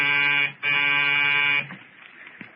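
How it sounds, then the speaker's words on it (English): An apartment door buzzer hums loudly in a steady, harsh drone, cut by a brief break so it sounds as two long bursts, then gives way to faint room noise. "the buzzer to the Smiths' apartment hummed like an angry bee"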